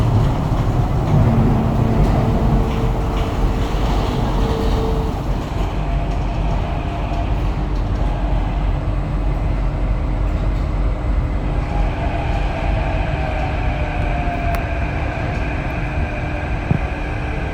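An SMRT Thomson-East Coast Line train at Gardens by the Bay runs into the pocket track to turn back, giving a steady rumble and hum with faint squeals, heard from inside the carriage and without talk.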